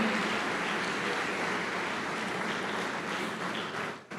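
A church congregation claps for the Lord in a sustained, dense wash of applause that holds steady and then fades out near the end, with no voices heard.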